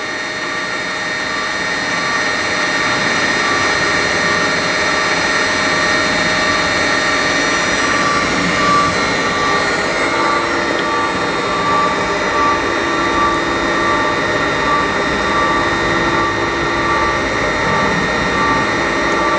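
A DCM IG 280 SD rotary surface grinder runs steadily and loudly throughout, with a dense, constant mechanical drone and a high whine from the spindle, and no speech.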